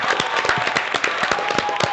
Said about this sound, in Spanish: Un aplauso, vale.